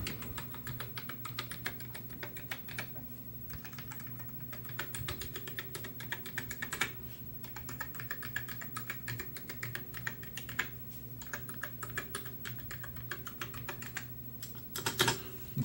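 Keys being typed on a Commodore SX-64 computer keyboard, a steady run of quiet rapid clicks over a low hum, with a slightly louder cluster of presses near the end.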